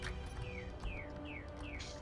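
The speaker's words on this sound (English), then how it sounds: "I can hear a bird in the background." A bird chirps in the background, a series of quick, thin descending tweets repeating about every half second over a faint, steady low hum.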